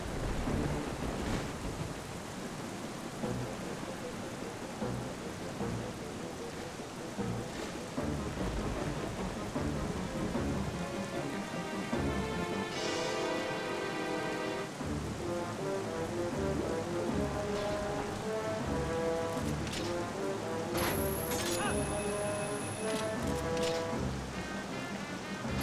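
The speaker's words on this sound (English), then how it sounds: "But he also can create storms." In The Legend of Zelda: Twilight Princess, a dragon boss summons a storm: steady heavy rain and rumbling thunder fill a long stretch, with game tones and chimes rising over the downpour later on.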